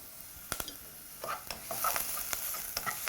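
Onions sautéing in a pan with coconut and thyme, light sizzling broken by several sharp spoon scrapes and knocks against the pan, close and fairly quiet.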